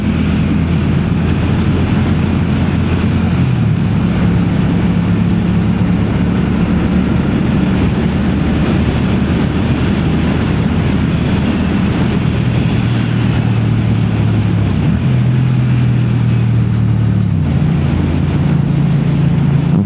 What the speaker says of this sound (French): Un moteur assez puissant, c'est vraiment une chouette moto.